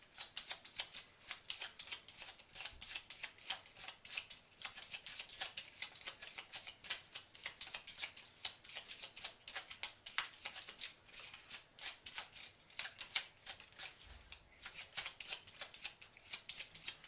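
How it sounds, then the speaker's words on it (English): Game tokens from the board game Dungeon Lords are shuffled by hand, a quiet, rapid, continuous clatter and rustle of small pieces throughout. "I was shuffling the wrong ones, wasn't I?"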